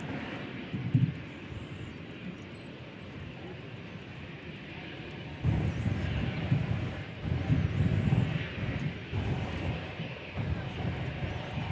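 Avianca airliner in Star Alliance livery at DFW Airport, a steady jet engine roar with wind noise that swells louder about halfway through and holds, with no voices.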